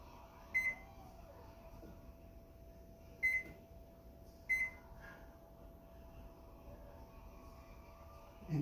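Three short electronic beeps from an oven control panel as the bake temperature is set, spaced irregularly over a quiet room hum with a steady faint tone underneath.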